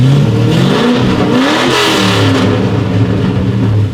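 A truck engine with no mufflers connected revs hard and runs unevenly, its loud, rough rumble surging and lurching without settling into a steady idle.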